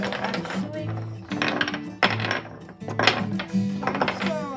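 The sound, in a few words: dice being mixed and rolled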